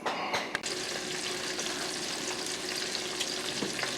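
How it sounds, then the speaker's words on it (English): Chicken pieces browning in a hot pan give off a steady, close sizzle and spatter, with a brief clatter at the start as they go in. "Now we're going to transfer our chicken in, and we're going to brown it on both sides for about 7 to 10 minutes"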